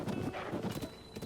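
A horse's hooves clip-clop in The Legend of Zelda: Tears of the Kingdom, a quick, steady trot of rhythmic hoofbeats with a constant game soundscape behind it.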